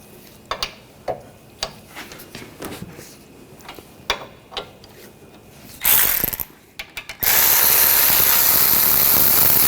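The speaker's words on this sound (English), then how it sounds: "Using a 19mm socket, loosen up these two bolts." Ratchet with a 19mm socket working the brake caliper bracket bolts on a 2014-2020 Nissan Rogue, a run of sparse clicks and knocks that builds to a brief burst, then a loud continuous mechanical whir.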